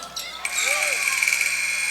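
A loud, sustained electronic buzzer sounds over arena crowd noise and commentary at a boys' varsity high school basketball game, holding steady for well over a second.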